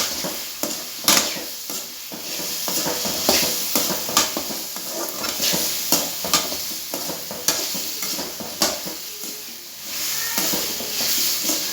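Mutton curry ingredients sauté in a pan, sizzling steadily while a utensil stirs and scrapes in frequent irregular strokes, close and fairly loud with no talk.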